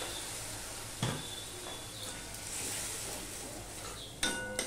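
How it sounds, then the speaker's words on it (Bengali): A spoon stirs taro root curry with spices, turmeric and water in a pan: a faint, soft bubbling simmer with a few brief spoon clinks against the pan, quiet and close, with no voices. "মশলার সাথে ভালো করে আমি গুলিয়ে মিশিয়ে নিচ্ছি।"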